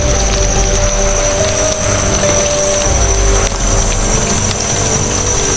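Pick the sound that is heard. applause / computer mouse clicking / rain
rain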